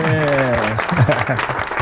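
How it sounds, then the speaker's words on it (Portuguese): A podcast audience claps for its guest, running professor Vitor Franco, in a short steady patter of applause heard under an enthusiastic voice that talks throughout. "vamos aplaudir o nosso convidado, professor Vitor Franco"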